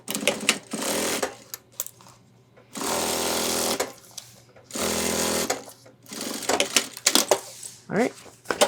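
A sewing machine stitches fabric for a homemade 30L ultralight hiking backpack, running in several loud, steady whirring bursts separated by pauses where a voice talks.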